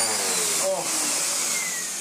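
Hoover Dustmanager bagless vacuum cleaner with its motor running, a loud, steady, whining drone close by, with speech heard faintly over the noise.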